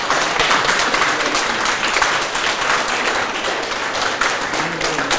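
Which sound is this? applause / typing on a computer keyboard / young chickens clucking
applause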